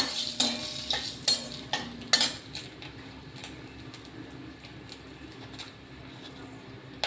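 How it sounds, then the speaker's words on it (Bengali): Dried red chili tempering sizzles in hot oil, with a run of sharp clinks from stirring in the first few seconds before a quieter, steady frying hiss. "আমি একটা শুকনো লঙ্কা ফোড়ন দিচ্ছি"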